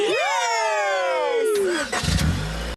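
A cartoon car engine starts up with rising, harmonic revving tones that sweep and fade, followed by a burst of rumbling noise, loud and close, with voices mixed in.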